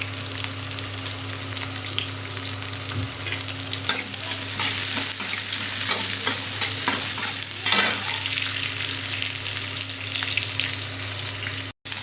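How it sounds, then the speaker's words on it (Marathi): Onion and spices frying in hot oil on a home stove, a steady loud sizzle with repeated stirring scrapes throughout, no voices. "आता हे सगळं मी तेलामध्ये फ्राय करणार आहे"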